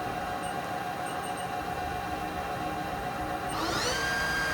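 A 2005 HAAS TL-2 CNC toolroom lathe spindle running at 500 RPM, a steady mechanical hum that rises in pitch near the end as the spindle speeds up.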